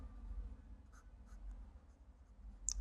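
A pen writing an answer by hand on paper, faint scratchy strokes coming in short, scattered bursts over a low room hum, close but quiet.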